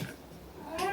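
A pet cat in a Melbourne home gives a short, soft meow near the close of a quiet moment, heard at close range.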